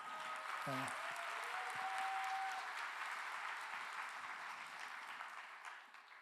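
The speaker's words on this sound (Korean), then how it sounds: "박수 한번" A church congregation applauds during a Thanksgiving service, a steady wash of many hands clapping that holds for several seconds before thinning out, with a brief voice near the start.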